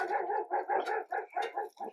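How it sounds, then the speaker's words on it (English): A pet dog in a home kitchen lets out a quick run of about eight close, fairly loud barks, some rough and yelping, set off by a cooking pan being struck. "there's my dog, who thinks that when I hit the side of the pan, it's the doorbell"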